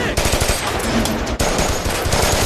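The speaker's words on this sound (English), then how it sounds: "But their gunfire breaks one of the vats" Sustained machine gunfire from a gory horror film, a dense rapid burst of loud shots with a brief break partway, close and harsh over a full mix.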